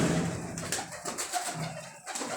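Pigeons in a loft give soft, low cooing calls, close and fairly steady, with faint rustling and chirps.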